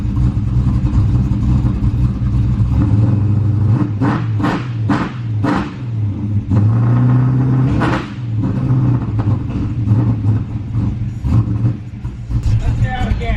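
A car engine on a nitrous and E85 build revs loudly and close by in a heavy rumbling drone, throttle blips rising and falling, with a voice speaking over it.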